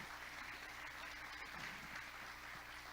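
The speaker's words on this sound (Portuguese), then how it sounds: "Aplauda o Senhor por isso" A church congregation applauds during a Sunday service, a continuous soft wash of many hands clapping, steady and fairly distant for the whole stretch.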